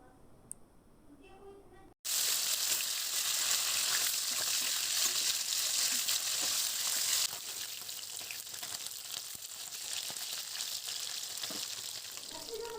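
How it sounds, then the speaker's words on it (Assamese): Fish drops into hot oil in a kadai, bursting into a loud, steady sizzle that continues and softens slightly partway through, with no voices. "গৰম কৰি লোৱা তেলখিনিত মই এনেদৰে মাছ দি দিছোঁ আৰু মাছখিনি দি খুব সুন্দৰকৈ ফ্ৰাই কৰি ল'ম।"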